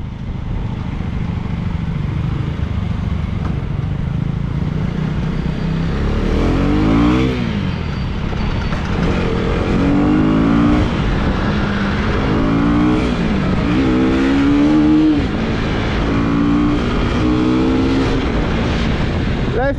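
A 2024 Husqvarna Vitpilen 250 single-cylinder motorcycle is ridden on the street, its engine droning loud and continuous, rising and falling through repeated revs and gear changes, while wind rush fills the background throughout.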